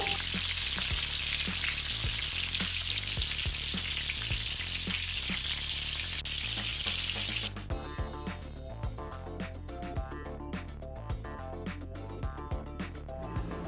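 Vegetable stems fry in hot oil with a loud, dense, crackling sizzle for several seconds, then the sizzle turns quieter and thinner while tonal background music carries on.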